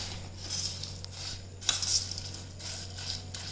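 A spoon mixing ragda in a pot, giving soft scraping strokes and light metallic clinks against a steady low hum, quiet and close, with no talk.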